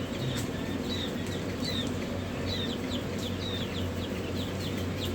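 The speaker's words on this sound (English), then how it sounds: "Smallest bird in the world right here, the Sherman." Tiny chickens chirp and cheep repeatedly inside a busy hatchery, short rising calls scattered over a constant low mechanical drone.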